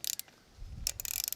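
A ratchet wrench loosens the lower fork clamp bolts on a bike, giving quick clicking bursts at the start and again at the end, with a dull mechanical rumble in between.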